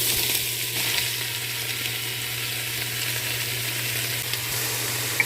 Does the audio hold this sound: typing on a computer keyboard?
no